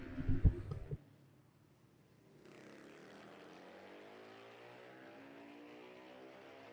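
Racing motorcycles on a track at a national championship race, a faint, distant engine drone that rises slowly in pitch as bikes pass, following a brief louder thump at the start.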